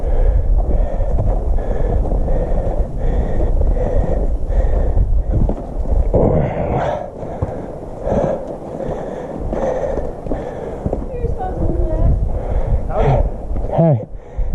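Steady, loud wind roars through a snowy Colorado canyon on a winter hike to Hanging Lake, a continuous rushing gust buffeting the microphone throughout, with brief breaths and voices mixed in.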